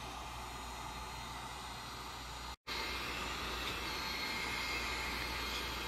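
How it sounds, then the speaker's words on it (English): A heat gun drying paint on glass: a steady, loud rush of blowing air fills the clip, broken by one abrupt silent gap before the roar resumes. "Use a heat gun."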